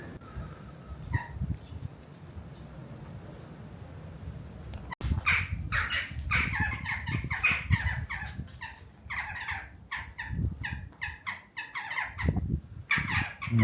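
Several crows caw loudly and repeatedly in ragged bursts, close by, over outdoor background noise at a winter parking spot on the Atlantic coast.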